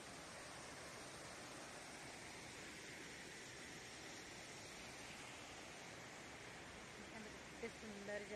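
Waterfall at a scenic spot near a Shiva temple, a steady broad rushing roar of falling water throughout, fairly faint and even, with a few brief voices surfacing near the end.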